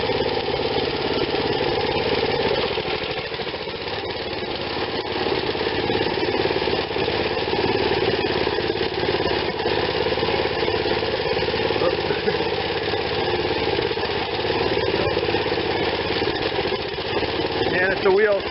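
A Troy Bilt Horse rototiller tilling a garden, its engine chugging loudly and continuously close by, with a rough uneven rumble that barely shifts throughout.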